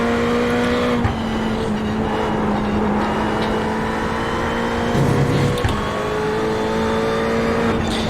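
A Ferrari GT3 race car braking hard into the chicane at Lime Rock Park in iRacing, with a loud, continuous engine whine that drops in pitch as it slows, plus brief dips and a faint tire scrub.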